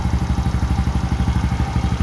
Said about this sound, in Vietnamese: cái máy đi phê lắm, đây là máy nổ ấm lắm.